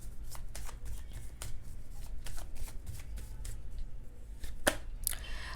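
Tarot cards are shuffled by hand in a quick papery riffle, a run of crisp flicks and slaps spaced through the stretch. A sharper snap near the end sounds like a card being drawn. The sounds are close and quiet, with no talk.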